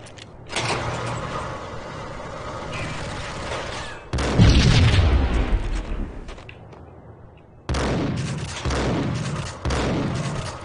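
Explosions from bombs thrown by an enemy in the shooter game Max Payne, a loud, deep blast followed by a decaying rumble, then several sharp, close bursts of gunfire and impacts in quick succession.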